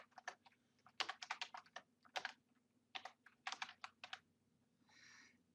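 Fingers typing on a computer keyboard in a quiet room, irregular clusters of crisp close key clicks with short pauses, ending in a softer brushing sound.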